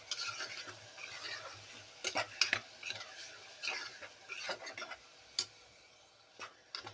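Chopped tomatoes are stirred into onions in a pan, producing quiet irregular scrapes, clicks and taps of a spoon against metal over a faint sizzle, close and soft, with no talking.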